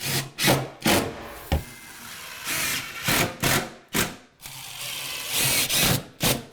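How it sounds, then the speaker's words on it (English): Screws are driven into a pine wood bench with a power driver, a series of close, loud buzzing bursts with brief pauses between, each ending in a grinding bite as the screw seats. "So I'm just going to put 4 screws in."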